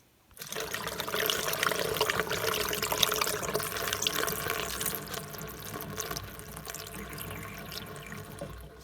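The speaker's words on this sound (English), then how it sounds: "I'm going to take these 1-gallon jugs and 2 at a time into the visitor center and fill up my water tank." Tap water runs steadily into one-gallon jugs at a visitor center sink, a close, continuous rushing gush that starts abruptly and holds for several seconds with no talking.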